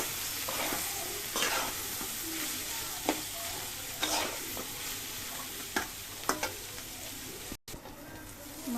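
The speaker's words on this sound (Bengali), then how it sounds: "মশলাগুলো ভাজা ভাজা হয়ে গেছে," Spices and jackfruit seeds fry in a pan for shapla rice, a constant close sizzle broken by the repeated scrape and tap of a utensil stirring them, with no speech.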